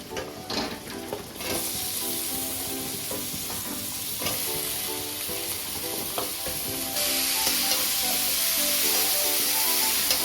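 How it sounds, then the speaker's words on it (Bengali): Vegetables go into hot spice masala in a kadai for a Bengali prawn and drumstick chorchori, a loud continuous sizzle with scraping stir strokes at the start, the hiss growing stronger toward the end. "এখন আমি এই সব সবজিগুলোকে দিয়ে দিচ্ছি মশলার ভিতরে"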